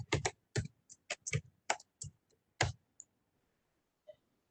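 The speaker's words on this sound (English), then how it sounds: "So I'm typing my email in the chat box." Someone typing an email on a computer keyboard, with quick irregular bursts of crisp key clicks, close up, ending in a pause and one last tap.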